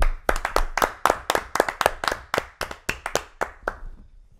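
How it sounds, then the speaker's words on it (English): A lone person claps by hand at the close of a basketball anime film, about twenty sharp, fairly even claps that are close and clear, fading slightly toward the end, with no talking. "Now, can we get a round of applause?"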